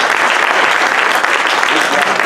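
Audience clapping steadily at a community general body meeting, a dense, sustained burst of applause from a roomful of people with no pauses.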